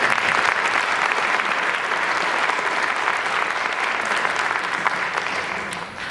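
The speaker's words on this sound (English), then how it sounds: "a round of applause for the great work" An audience at a College of Marin spring convocation applauds a team, dense sustained clapping from a large crowd that stays loud and even for about six seconds before easing slightly.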